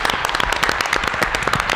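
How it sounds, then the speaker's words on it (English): Brief, dense applause from an audience, sharp overlapping claps filling under two seconds at steady loudness with no talk over it. "Give yourself an applause."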